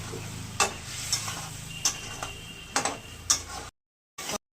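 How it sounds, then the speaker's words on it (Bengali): Spoon scraping and stirring poppy seed paste with masala for a hilsa fish curry in a pan, several sharp clinking strikes over a low sizzle, ending in brief silence. "এবার পোস্ত দেওয়া আছে তো একটু কষিয়ে নেবো"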